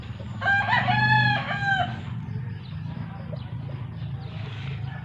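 A rooster crows loudly nearby, a long stretched call, with hens clucking faintly underneath and a low rumble of background noise.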